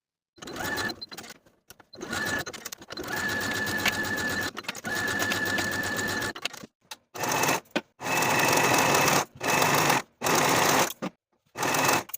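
A sewing machine stitches the side and shoulder seams of a sleeveless top, running in close bursts of varying length, some long and steady and others short with quick stops.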